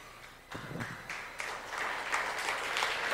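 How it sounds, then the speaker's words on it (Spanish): Applause from a church congregation honoring fathers starts with a few scattered claps, then swells into steady, building clapping that continues to the end without speech. "Fuerte el aplauso al Señor."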